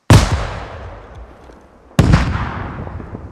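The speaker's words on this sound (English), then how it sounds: "I also love coming to the range and doing the aim-to-tank rocket launcher because it's just so powerful" An anti-tank rocket launcher fired on a practice range in a first-person shooter video game: two heavy, bass-rich booming blasts about two seconds apart, each trailing off in a long rumble.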